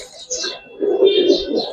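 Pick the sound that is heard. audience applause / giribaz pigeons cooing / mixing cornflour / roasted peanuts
giribaz pigeons cooing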